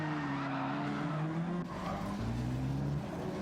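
Stock race cars in a big multi-car wreck off a turn at an oval track, engines droning steadily with a tire skid swelling near the start and again later, loud and continuous with no talk.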